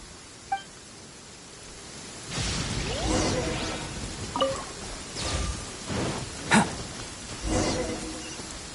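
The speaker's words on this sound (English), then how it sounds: "Uh-oh! Lightning storm!" A thunderstorm with rain in a video game: steady rain hiss joined by sweeping gusts and several cracking thunder bursts spaced a second or so apart, with no talk.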